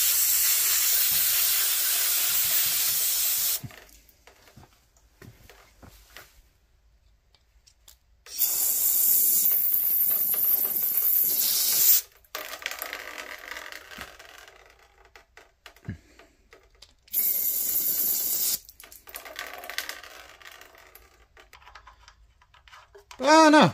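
Oil-filled parts of a Honda GX340 engine are sprayed down in a shop, with long, loud hissing spray bursts that start and stop several times, and people talk in between.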